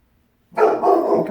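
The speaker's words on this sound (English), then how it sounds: "Sorry about my dogs, guys." Dogs bark close by in a sudden, loud burst after silence, with a few quick overlapping barks and yips.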